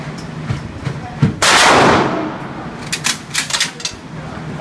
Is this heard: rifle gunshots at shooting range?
yes